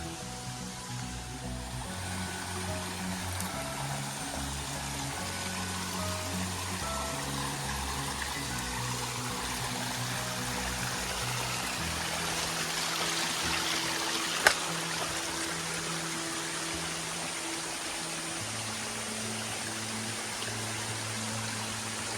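Stream water in a Konkan village flows in a steady, even rush that never lets up, with low humming tones droning underneath.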